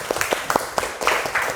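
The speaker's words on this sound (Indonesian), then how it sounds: "Sekali lagi tepuk tangan dong." A classroom of students clapping together after a lesson, a short burst of close, uneven handclaps with a little murmur of voices mixed in.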